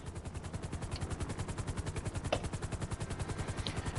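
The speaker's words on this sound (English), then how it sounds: "once you see the helicopter land, you go ahead and run to it and get into it" A Buzzard helicopter in GTA Online, heard as a steady, rapid rotor chop that throbs evenly throughout, loud and close, with no voices over it.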